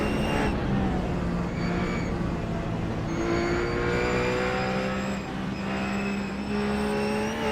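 Onboard a Porsche GT3 Cup race car lapping a circuit, the engine roars steadily with rising and falling revs through gear changes, loud and close throughout.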